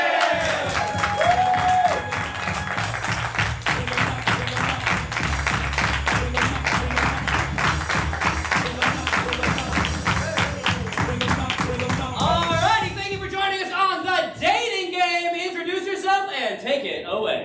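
A group yells a shouted phrase in unison, then rhythmic clapping and cheering build into a lively round of applause, with voices calling out over it and a speaking voice emerging near the end.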